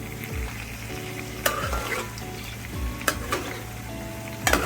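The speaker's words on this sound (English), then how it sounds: "Keep on basting the meat with the chutney sauce." A ribeye steak fries in a pan while it is basted with mango chutney sauce, a close steady sizzle broken by a few sharp scrapes and clanks of the spoon against the pan.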